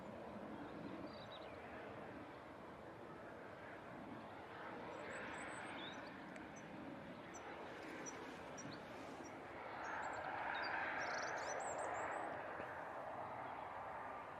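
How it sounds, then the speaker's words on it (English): A VistaJet Bombardier Challenger 350 business jet arriving from London at Manchester Airport makes a faint, distant steady rumble and hiss that swells slightly toward the end, with some birdsong above it. "This is the VistaJet Bombardier Challenger 350 coming in from"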